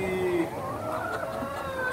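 Hens in a laying-hen poultry operation cluck and call continuously, a steady flock chorus close by with no talking over it.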